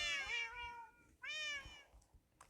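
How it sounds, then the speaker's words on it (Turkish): A household cat meows twice, long drawn-out calls with a short pause between, fairly close and clear over a quiet room. "Bu arada kedilerimiz de vardır."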